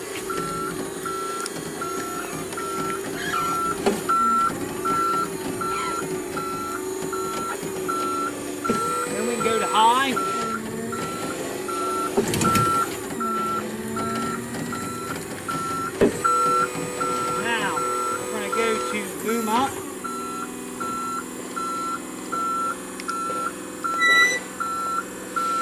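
A 1997 Grove VM3248E boom lift creeps along at slow speed, its reversing alarm beeping in a steady repeating pattern over a low motor hum, while someone talks throughout.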